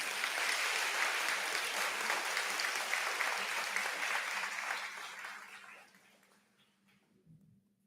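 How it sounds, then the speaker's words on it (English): A commencement audience for a school of liberal arts breaks into dense, even applause that holds for about five seconds, then fades away to near silence with a low hum remaining. "Let's give them all a hand clap,"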